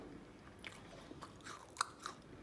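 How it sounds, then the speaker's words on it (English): Close, quiet bites into a homemade chocolate chip cookie give a few crisp crunches and soft chewing, with one sharper crack near the middle and no talk. "Can you hear the crunch?"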